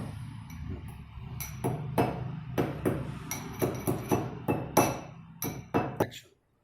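Cardamom pods pounded to powder in a mortar for sweet puran poli filling, a run of sharp, close knocking strikes in an irregular rhythm, a dozen or more impacts with metallic clink, ending abruptly.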